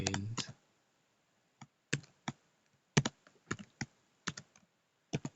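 Clicky computer keyboard typing in scattered bursts: a quick run of keystrokes, a pause, then irregular single taps and short clusters, close and crisp in a quiet room.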